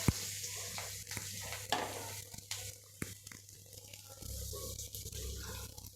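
Crushed garlic cloves dropped into hot oil in a frying pan for a cabbage dish, giving a close sizzle with several sharp clicks and scrapes of stirring over a low steady hum.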